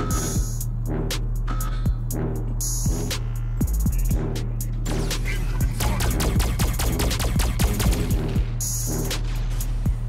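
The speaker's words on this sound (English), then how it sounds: "Incoming fire." Constant rapid bursts of incoming weapons fire in a mech combat video game, with sharp repeated impacts and clatter over a heavy, droning mechanical rumble that runs the whole time.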